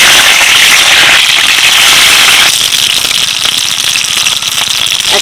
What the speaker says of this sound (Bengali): তেল গরম হয়ে গেছে এবার বেগুনগুলো ছাড়ছি